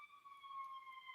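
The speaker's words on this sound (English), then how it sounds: "There's sirens close by." A faint, steady siren tone holds at a constant pitch in the distance, with no talking.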